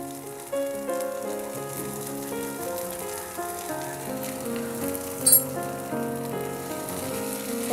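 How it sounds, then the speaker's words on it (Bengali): Tomato mash fries with roasted cumin powder added, a fairly soft, even sizzle with a brief clink of a spoon, backed by music. "হাফ চামচ ভাজা জিরার গুঁড়া অ্যাড করব।"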